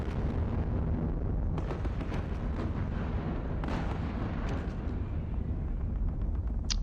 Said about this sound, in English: It should just open up, I guess, and just fire all guns into that hex.